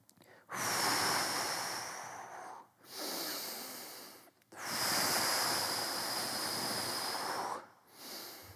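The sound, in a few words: breathing out and in during stretching exercise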